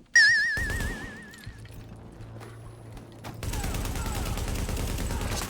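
A hundred-round gun fires in the video game The Division in loud rapid bursts amid game effects, after a brief warbling electronic tone.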